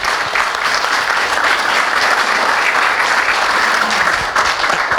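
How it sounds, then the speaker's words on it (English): Audience applause after a talk on brain ageing, a dense, steady burst of clapping filling the whole stretch, loud and close. "And huge round of applause."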